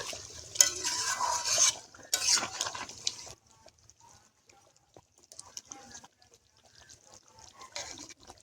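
A pot lid comes off and boiled mutton for a village-style curry is stirred, with loud bursts of steam hiss and metal clatter, then quieter scattered scrapes and clinks of a spoon against the pot.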